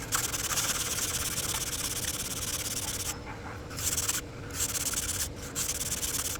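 Steady close-up sanding of a SOLAREZ resin repair on a carbon Cabrinha kiteboard, a continuous abrasive rubbing hiss with a few brief pauses where the stroke lifts off.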